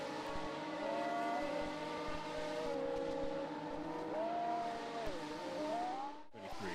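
Race car engine in a racing video game during Japan qualifying, revving and shifting pitch steadily through a run of corners, loud and continuous with no talk, cutting off abruptly near the end.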